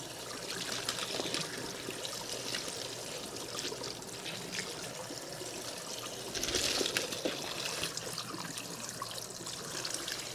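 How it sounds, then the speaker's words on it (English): Water runs steadily from a tap over frozen potatoes, a continuous soft splashing trickle that swells briefly partway through, with no talking. "I'll probably just run water over these until the ice all melts"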